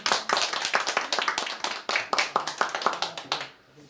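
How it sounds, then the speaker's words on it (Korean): A church congregation clapping together to welcome a returning member during a family praise service, a quick run of sharp, fairly loud claps for about three and a half seconds before it fades out. "오래간만에 오신 박수 한번 쳐줍시다."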